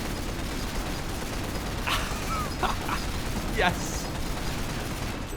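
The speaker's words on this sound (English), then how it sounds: "Look at that mortar fire" Mortar fire and explosions in the Cold War strategy game Men of War: Assault Squad 2, a few sharp bursts over a constant rumbling battle din, with a voice cheering briefly.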